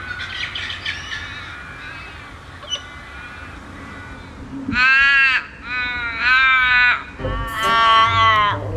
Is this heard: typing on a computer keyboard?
no